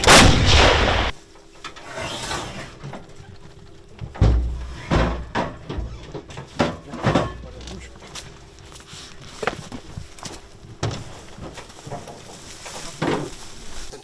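Several loud, sharp booms of a Caesar self-propelled artillery gun firing, spaced irregularly, with a low-frequency rumble and some background voices and clatter.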